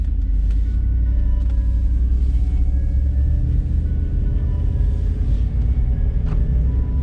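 Budget off-road Dodge Durango truck driving, with a steady loud low engine and road rumble from inside the cabin throughout, no pauses, and only faint knocks over the drone.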